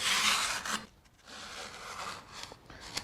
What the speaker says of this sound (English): So with the veneer saw, you want to use it like a regular saw.